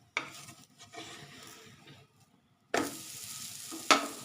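Paratha frying in oil on a flat pan, giving a steady sizzle with stirring and scraping touches, fading briefly before a louder burst of sizzling and a sharp utensil clink near the end.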